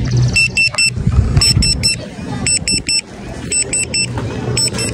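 A restaurant pager at a zoo park food stand buzzes and beeps in four repeated bursts of quick tones, fairly close, over a busy background of crowd murmur and rumble.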